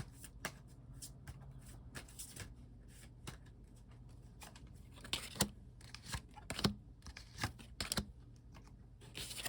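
Tarot cards being shuffled by hand, soft irregular riffling and flicking bursts, close and fairly quiet, with no voices.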